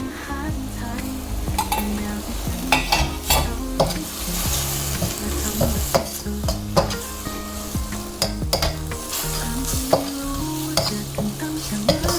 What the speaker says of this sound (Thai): จากนั้นก็ใส่ใบกะเพราลงต่อได้เลยครับ